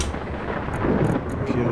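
Thunder from a lightning storm in the video game Space Engineers rumbles low and steady, swelling slightly midway, with faint high clicks over it.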